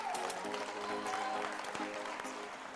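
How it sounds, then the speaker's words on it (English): An audience at a live product launch event claps steadily for a short stretch, a dense moderate patter with some indistinct voices mixed in. "let's give an applause for Jeremy"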